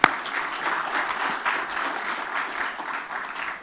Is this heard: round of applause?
yes